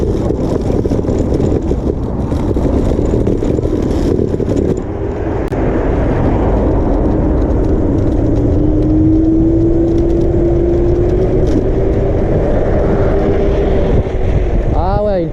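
A WEPED NUMO GTS electric scooter accelerates away with a rising electric whine over heavy wind rumble from riding on the road, while a rider's voice is heard.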